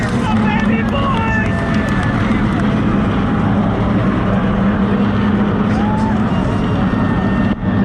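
Race cars at the 2020 Daytona 500, heard from the front row: a loud, continuous engine roar from the field thundering past, with crowd babble and talk close by throughout.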